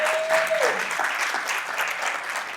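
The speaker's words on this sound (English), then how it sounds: "we can clap for that" A roomful of people applauding steadily, dense and continuous clapping from a sizeable crowd.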